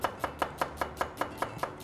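Kitchen knife finely chopping onion on a cutting board for a potato tray börek sauce, a steady rhythm of crisp, close taps, about four per second, with no talking.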